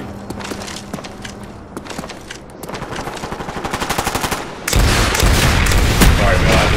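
Call of Duty Black Ops gun game match with scattered gunshots building into rapid automatic bursts, then a loud sustained barrage near the end, with someone talking faintly beneath.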